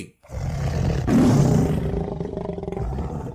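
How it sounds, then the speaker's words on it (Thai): A tiger roars in a forest, one deep, loud, drawn-out roar that swells and then fades, with no one talking. "เสียงเสือร้องดังไปทั่วราวป่า"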